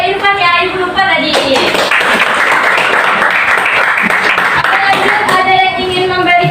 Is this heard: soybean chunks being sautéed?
no